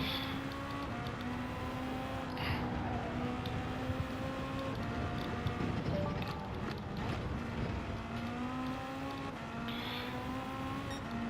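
Hypercar engine in the racing game Gran Turismo 7, a continuous high revving drone that climbs and drops in pitch through gear changes, loud and steady throughout.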